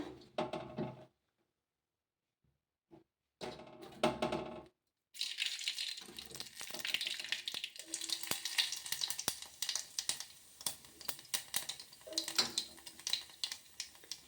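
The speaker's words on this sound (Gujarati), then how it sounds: "હવે તેલ પણ આપણું તૈયાર થઈ ગયું છે તો વઘાર દઈ દઈએ" Spices for tempering hit hot oil in a kitchen. A few light clinks and clatters come before it, then a steady, crackling sizzle runs on for several seconds, close and moderately loud.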